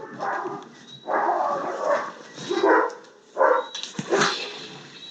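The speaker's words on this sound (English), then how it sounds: "Sorry for the dogs in the background." Several dogs bark in repeated bursts, fairly close, with yips and whines between the louder barks.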